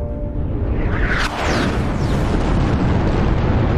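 Fighter jet missile launch in the flight simulator DCS: a loud rushing roar with a sharp whooshing burst as the missile leaves the rail, followed by sustained rumbling noise.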